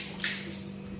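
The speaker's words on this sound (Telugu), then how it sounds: "పొయ్యి శుభ్రంగా ఇలా కడుక్కుంటున్నాను" Water splashing and running over a kitchen stove as it is washed, a steady close wash with a brief louder gush near the start and no talking.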